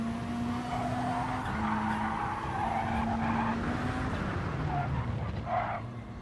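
A race car in GT Sport at the Catalunya circuit revs through shifting engine tones while its tires skid and squeal in long, loud stretches, with no voices.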